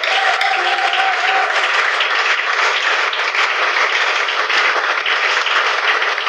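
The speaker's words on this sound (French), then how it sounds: "Est-ce que nous pouvons acclamer fort le Seigneur?" A church congregation gives loud, sustained applause and cheering to the Lord, with a dense, continuous wash of clapping and a brief tonal voice early on.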